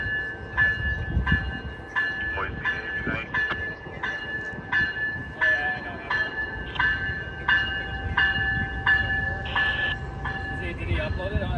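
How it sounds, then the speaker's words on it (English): A VIA Rail P39 passenger train departing Dorval station, with a loud, sustained horn sounding in repeated blasts over the low rumble of the moving train, close by and dominating, with voices talking in the background. "Now here is via P39 departing Dorval, which goes from Quebec City to Ottawa."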